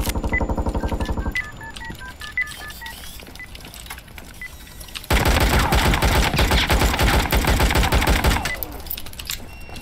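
Gunfire in the tactical shooter Due Process: a short rapid burst, a few beeping game tones, then a longer sustained spray of automatic fire, close and loud.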